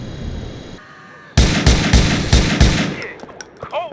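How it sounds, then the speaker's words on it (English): Grenades exploding in the video game GTA 4: a quiet lead-in, then a loud burst of four or five booming blasts in quick succession, tailing off into smaller pops and debris. "you'll see these grenades going off"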